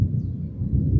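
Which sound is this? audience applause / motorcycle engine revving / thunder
thunder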